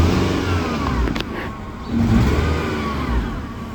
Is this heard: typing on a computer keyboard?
no